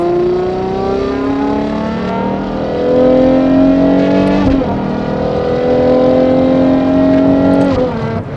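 Novitec-tuned Ferrari Purosangue V12 roars loudly while driving, a rich sustained engine howl with rising and falling revs and a brief gear change midway, close and continuous with no talk.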